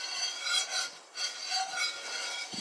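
Roasting coffee beans are stirred around a cast iron pan, giving a continuous dry raspy rubbing that swells and fades in waves, close and fairly quiet.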